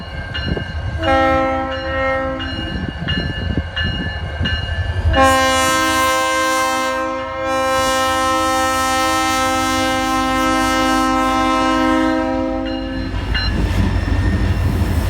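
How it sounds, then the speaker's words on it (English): An SD40-2 locomotive with an EMD 645 E3 diesel rumbles low and steady in Winnipeg while its horn sounds a short blast, then a long, loud, sustained chord, with rail noise around it. "Turn up your volume to hear the nice low rumble of the EMD 645 E3 engine"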